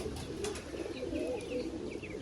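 Pigeons coo softly in a quiet setting, with a few faint chirps scattered through the low murmur.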